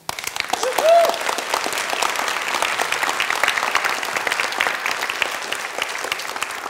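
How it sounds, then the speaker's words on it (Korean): Audience applause at a talk, a full crowd clapping steadily for several seconds after a brief spoken exclamation near the start, dense and fairly close. "Then if you want to know, then please show me a round of applause."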